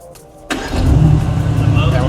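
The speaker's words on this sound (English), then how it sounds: "Would you throw your foot on the brake and hit the engine start button?" A Mercedes-AMG GT R cranks and fires up after half a second of quiet, bursting into a loud, rumbling engine that settles into a deep, steady idle, with someone talking nearby.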